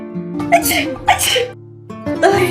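Loud, close sneezes in a Spanish-language sneeze compilation: a few sharp bursts spaced about a second apart, with people talking and reacting around them.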